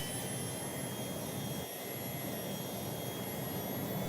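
A single running jet engine of a Citation C-560XL whines steadily in a flight simulator, a faint even roar with high tonal whistles and no change in pitch.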